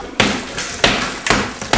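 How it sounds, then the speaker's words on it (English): Sledgehammers pound a house foundation being demolished by students, four loud heavy thuds at a slow, uneven pace, close and alone. "We've got kids with sledgehammers, kids just pounding away at foundation."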